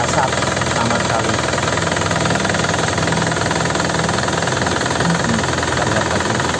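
A 2014 Isuzu Panther Grand Touring diesel engine idles with a steady, dense clatter, close and loud, running evenly throughout; someone talks over it.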